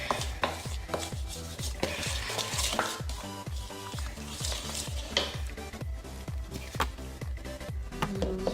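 Cookie dough being beaten in a bowl with flour added, a steady run of quick rhythmic strokes with scraping and tapping, close and fairly loud, no voices.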